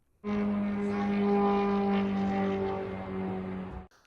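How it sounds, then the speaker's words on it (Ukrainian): A Shahed attack drone's steady droning engine, with a strong low hum and harmonic buzz, passes over a city, loud and sustained for several seconds before cutting off. "Звуки, з яким ворожий шахет летів над містом, зафіксували камери вуличного спостереження."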